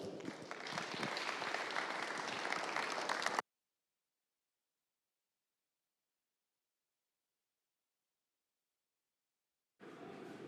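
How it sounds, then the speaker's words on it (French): Conference audience at an energy-sector event applauding a strategic asset management manager, dense, steady clapping for about three seconds before cutting to silence, then resuming faintly near the end. "que je vous propose d'applaudir"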